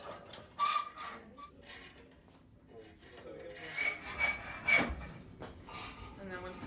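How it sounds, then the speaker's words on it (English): A hacksaw rasps through steel rebar clamped in a vise, giving uneven grinding strokes that swell and fade over a few seconds, with faint voices nearby. "so you can load the rebar in and then cut."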